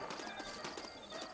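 Saddled horses in the Western video game Red Dead Redemption, hooves clip-clopping in a quick, steady rhythm, close and clear.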